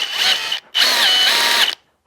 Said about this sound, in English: So I've got my Hilti drill here